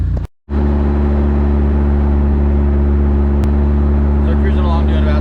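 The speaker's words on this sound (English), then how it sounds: "So we're cruising along doing about 60." A Vanderhall car cruising on the road at about 60, a loud, steady low engine drone and road roar heard from inside, with a brief dropout near the start.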